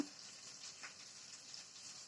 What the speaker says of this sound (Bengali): মাছ ভাজা করছি তেলে